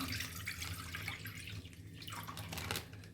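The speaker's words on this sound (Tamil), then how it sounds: "நம்ம அரை லிட்டர் பால் எடுத்து ஒரு பாத்திரத்தில் ஒரு கடாயில் ஊற்றிக்கலாம்" Half a litre of milk is poured into a kadai to make paneer at home. The liquid pours in a faint, continuous splashing trickle with no voices.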